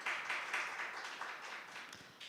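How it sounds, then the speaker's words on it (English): Audience applause for the judges of an impromptu speaking competition's preliminary round, a steady wash of many hands clapping at moderate distance, fading slightly toward the end. "Please give them a round of applause."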